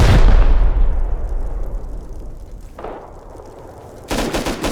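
A rocket blast in a raid battle game: a loud, close boom that rolls into a long fading rumble, followed by further heavy bursts and crackling impacts, with no voices.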